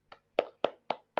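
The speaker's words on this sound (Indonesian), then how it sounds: "sekarang terakhir tepuk tangan semuanya." Five sharp hand claps from a class of students, spaced in an even, deliberate rhythm, each a crisp percussive burst with no talking in between.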